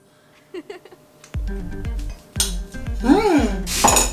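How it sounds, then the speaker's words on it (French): Cookie brownie batter is worked in a bowl, producing a run of sharp clinks and knocks of utensil against the bowl, growing busier and louder toward the end. "On mélange."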